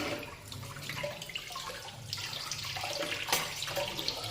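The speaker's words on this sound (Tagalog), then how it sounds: "Ayan, hugasan lang natin ito." Kitchen tap water running steadily into a sink while blue marlin fish is washed, a soft close hiss and splash with small shifts as it falls, no speech.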